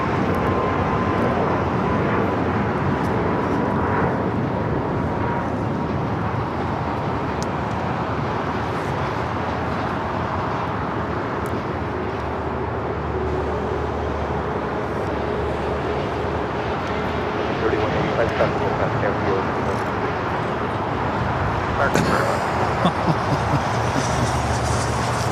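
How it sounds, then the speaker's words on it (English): United Airlines Airbus A321neo taking off from runway 25 right at LAX, a steady broad jet engine roar building in the distance and holding loud for the whole stretch, with faint airport background. "United A321 Neo now taking off 25 right."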